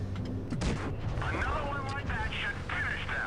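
Tank guns firing in a World of Tanks Blitz battle, with several sharp booming shots and rumbling impacts over steady game ambience, mixed under continuous talk.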